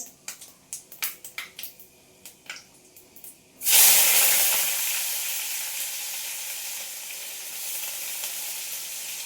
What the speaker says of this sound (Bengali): এবার দিয়ে দেবো একটু কুচানো পেঁয়াজ।